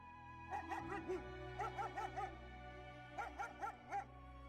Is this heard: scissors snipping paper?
no